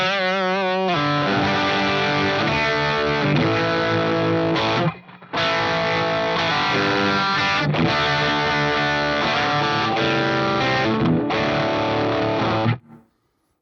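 Electric guitar with single-coil pickups played through an overdrive pedal set bright, giving continuous distorted chords and riffs, loud and alone, with a brief gap midway and a cut-off at the end.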